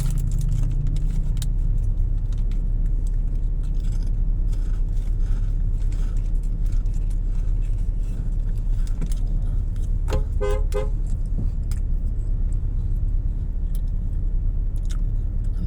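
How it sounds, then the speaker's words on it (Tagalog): Busy evening street traffic on EDSA in Pasay, with cars idling and crawling in a jam and short horn toots near the middle, under a constant loud rumble of engines. "naipit tayo mga idol sa traffic"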